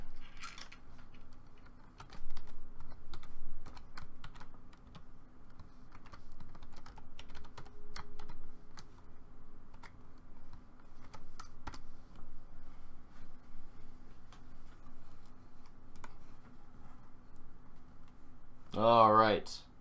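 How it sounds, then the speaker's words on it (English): Fingers tap a computer keyboard while typing a message in a video game, producing a steady patter of light, quick key clicks over a low background hum. "Let me type something in here."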